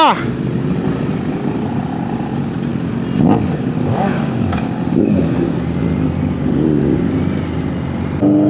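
A Kawasaki Z900 motorcycle rides off, its engine droning and revving loudly nearby, with people talking over the sound.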